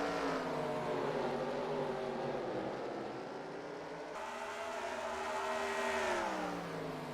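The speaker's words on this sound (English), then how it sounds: "We are racing, and then Soko." Race cars in a video game roaring off at the green-flag start, engine tones climbing and shifting as the pack accelerates, loud and continuous without commentary over it.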